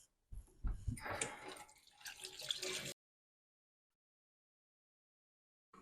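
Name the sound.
rinsing chicken livers with water in the sink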